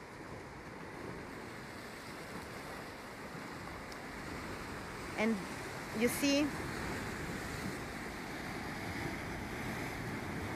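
Sea waves wash against the shore just meters from a house on the Ligurian coast, a steady surging roar mixed with wind buffeting the microphone, while a person briefly speaks nearby.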